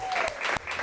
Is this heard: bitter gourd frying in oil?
no